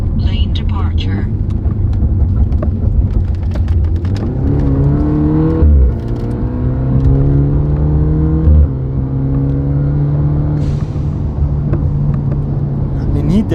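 A BMW F30 316i with a forged engine pulls hard from inside the cabin, its engine note climbing in pitch through rising revs with short gear shifts and brief drops, loud and continuous while people talk over it.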